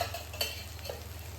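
Ghee goes into a pot of jeera rice and sizzles faintly while a spoon stirs. The sound is quiet and brief, a soft continuous hiss with a few light scrapes, and no one talks.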